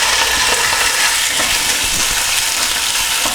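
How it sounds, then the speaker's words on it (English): Lamb pieces sear in about five tablespoons of hot olive oil in a pan, giving a loud, steady, dense sizzle with crackling and spitting that runs the whole time, with no voices. "We've brought it up to temperature, it's nice and hot, so we add our meat."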